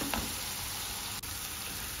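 Spices with salt and chili powder sauté in a pan for a Bengali egg and bitter gourd stir-fry, making a steady, close hiss and sizzle with one brief dip and no talking.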